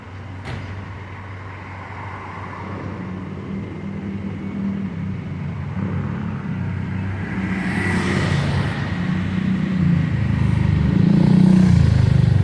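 Street traffic in the Philippines with motorbikes and cars, including Toyotas, Suzukis and Hyundais, rumbling past steadily, the engine noise swelling louder toward the end as vehicles pass close by.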